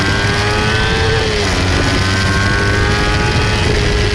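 A Kawasaki Ninja 250 motorcycle accelerates hard on Ebisu Circuit in Japan, its engine a loud, steady, close whine holding high revs with a slight dip midway and no voices.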